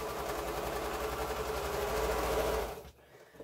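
Home sewing machine running a straight seam on quilt fabric, a steady continuous motor whir with rapid needle rhythm at close range, stopping abruptly near the end.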